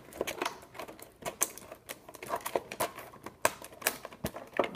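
Plastic blister packaging on an Amiibo 3-pack is cut away from its cardboard backing, producing a close, quiet series of irregular snips, clicks and crinkles, with no talking.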